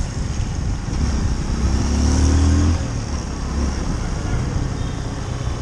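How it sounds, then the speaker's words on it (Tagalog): Motorcycles labour through a flooded, muddy road at Tambacan Bridge after a typhoon: engines rev and drone close by under heavy outdoor noise, swelling loudest midway, then easing off. "Daghang kayong mga gatulod silang mga motor."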